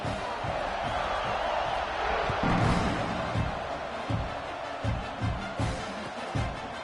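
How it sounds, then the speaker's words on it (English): Stadium crowd noise in a college football video game, a continuous loud roar of fans buzzing after a score, with faint thuds and swells rising through it. "this crowd is buzzing after that last score"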